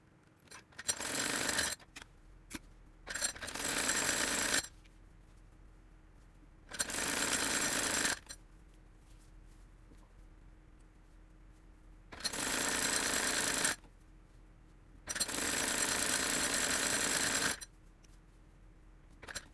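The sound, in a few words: sewing machine stitching the side seam of a maxi dress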